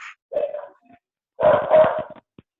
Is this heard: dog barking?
yes